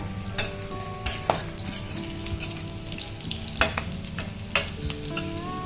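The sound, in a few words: potato and egg rolls frying in a pan, stirred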